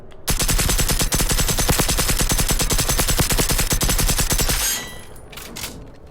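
A purple SMG in Generation Zero fires one long, unbroken automatic burst: loud, fast and evenly spaced shots that end abruptly, followed by a few faint clicks and rustles.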